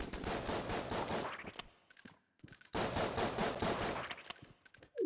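Rapid automatic gunfire from shooting dashing enemies in a roguelike shooter game, played as a Marine, comes in dense continuous bursts with a short lull before firing resumes loudly.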